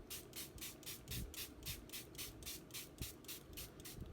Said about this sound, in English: or you could keep spraying to blend those colors